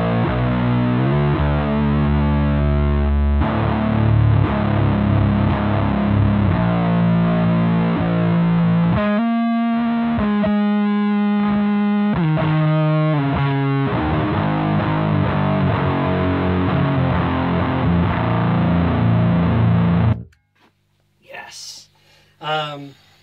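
An electric guitar runs through an effects pedal, giving a synthy, splattery distortion with the bottom end kept. Loud, thick sustained chords and riffs play for about twenty seconds, then cut off, and a brief voice follows.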